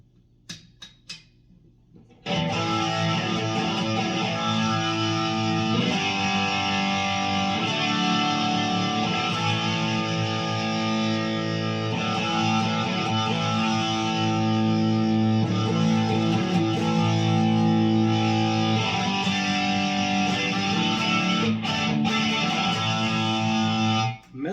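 An Eastwood Wandre Doris electric guitar on its bridge pickup chugs out heavy distorted chords and riffs, loud and continuous after a few quiet picked notes at the start.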